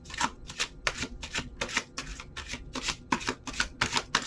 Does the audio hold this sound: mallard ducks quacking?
no